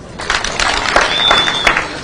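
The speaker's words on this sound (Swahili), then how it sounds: "Makofi kwa watu." Audience applause at a governor's political speech in Kakamega County: steady clapping from a crowd lasting the whole clip, fairly loud, with some cheering mixed in.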